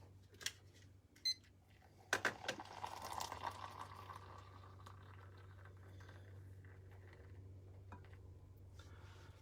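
Water pours into an inverted AeroPress coffee maker, a faint steady trickling stream after a few soft clicks, continuing alone for several seconds.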